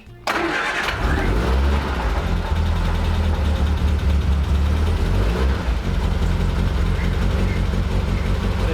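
A cold Triumph Spitfire engine cranks briefly on choke, catches, and settles into a loud, steady rumbling idle that runs on close by.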